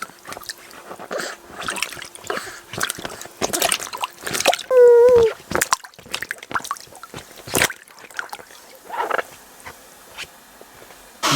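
A baby splashing in bath water, irregular wet slaps, drips and squishes scattered throughout, with a short high vocal squeal in the middle.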